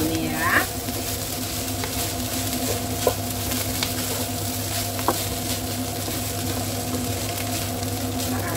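Fried rice seasoned with Javanese spices is stirred in a sizzling pan, giving a steady frying hiss with occasional scrapes and clinks of the utensil. The sound stays close and continuous throughout.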